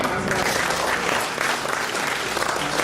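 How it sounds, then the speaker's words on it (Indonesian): Steady applause from the audience at a university entrepreneurship workshop fills the room, a dense, even wash of clapping that runs unbroken for about three seconds, with a speaker's voice faintly mixed in. "Tepuk tangan."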